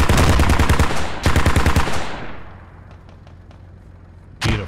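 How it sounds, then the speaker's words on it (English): Loud bursts of rapid automatic gunfire from a BTR armored vehicle in the game Squad, two long volleys, then a quieter pause with faint clicks and another burst. "that sounds like an emplacement to me. It's actually the BTR"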